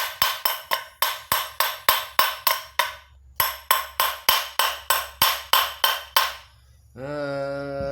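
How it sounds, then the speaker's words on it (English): Rapid, evenly spaced metallic hammer blows on a Miele vacuum cleaner part during repair, about two dozen in two runs with a short pause between, then a steady motor hum starts at the end. "And I just hammer it down."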